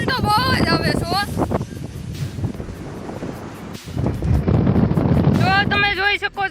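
Heavy outdoor wind batters the microphone in a loud, blustery rush that surges and dips, with a voice speaking briefly at the start and again near the end.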